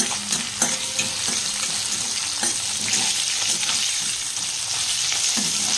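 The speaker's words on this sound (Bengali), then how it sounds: "এর মধ্যে দেখো কালো জিরে আর শুকনো লঙ্কা ফোড়ন দিয়ে নিয়েছি" Black cumin seeds and dried red chillies tempering in hot oil give a steady close sizzle with scattered crackles and pops, loud and continuous, no voices.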